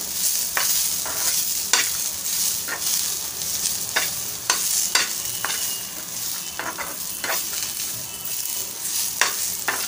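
Dried coconut sautéed in a pan for Konkan-style Malvani egg curry, a steady dry sizzle broken by repeated scraping strokes of a spatula at an uneven rhythm, close and fairly loud, with no talk.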